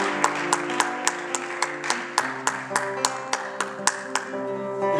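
Rhythmic clapping at a performance evening, sharp evenly spaced claps in a steady beat over sustained musical tones, moderately close and fairly restrained.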